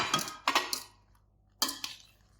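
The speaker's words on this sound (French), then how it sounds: "Ici, on va mettre un coup de cuillère dans les citrons" A metal spoon scrapes and taps inside halved lemons in a kitchen, three or four short, close clinks and scrapes in two quick clusters separated by near silence.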